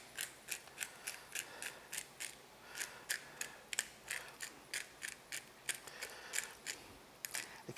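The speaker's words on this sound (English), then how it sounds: "we're gonna use a grinder with a little cracked pepper." A pepper grinder cracks peppercorns for seasoning a bacon-wrapped pork tenderloin, making a quick run of about two dozen crisp, ratcheting crunches in a steady rhythm, close and clear with no talking.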